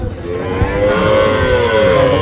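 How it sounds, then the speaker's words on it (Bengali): A young calf at a cattle market lows in a long, drawn-out moo close by, rising over a low background rumble, without talk. "এখানে ছোট্ট একটা পালন উপযোগী বাছুর আছে"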